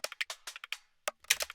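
Short bongo percussion loop in FL Studio for neurofunk drum and bass, quick bright taps in a bouncy rhythm, fairly quiet and dry, pausing briefly before a denser cluster of hits.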